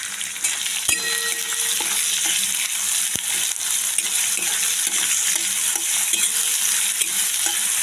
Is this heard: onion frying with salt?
yes